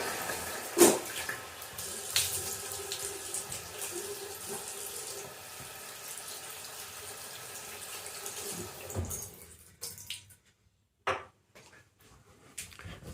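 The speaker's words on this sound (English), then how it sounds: "I wet the bristles with lukewarm water" Lukewarm tap water runs into a sink while a face and a shaving brush are rinsed, giving a soft continuous stream with splashes and brief pauses near the end.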